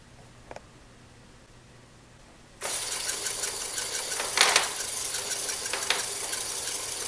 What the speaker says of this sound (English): You push down on this button for rewind.